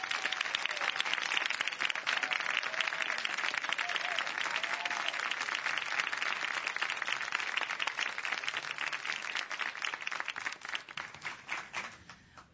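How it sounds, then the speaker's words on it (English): Sustained audience applause welcoming a bunion surgeon, Dr. Richard Moy, many hands clapping in a dense, even patter that holds for several seconds before tapering off at the end. "I'd say you deserve that applause."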